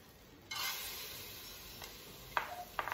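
Lentils tipped into a cooking pot on a stove for a lentil and vegetable soup, a soft rushing pour starting abruptly and fading, followed by a few faint clinks and stirring scrapes, quiet with no talk.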